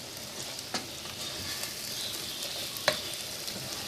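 Lahori chickpea masala, made with yogurt instead of tomato, fries and gets stirred in a pan: a steady bright sizzle with occasional sharp scraping clicks from the spoon, close and fairly quiet.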